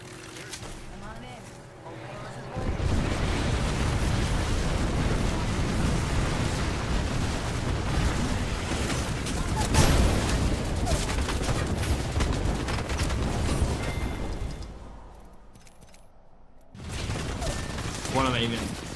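Continuous gunfire and blasts from an online shooter match dense loud barrage under frequent talk, with a brief quieter gap near the end before the action resumes.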